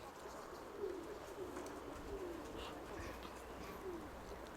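Soft, low pigeon coos repeat every second or so under steady outdoor background noise, fairly distant and faint.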